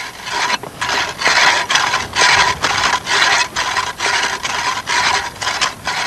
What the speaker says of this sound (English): Meanwhile, Dennis's dry drilling goes on.